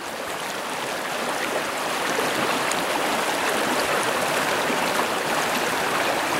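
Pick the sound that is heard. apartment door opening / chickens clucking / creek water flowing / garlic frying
creek water flowing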